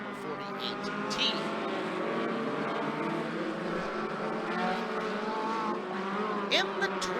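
Midget race cars lapping the track at Skagit Speedway, engines droning and shifting pitch as cars pass at a distance under continuous announcer commentary.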